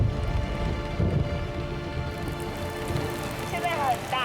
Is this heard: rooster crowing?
no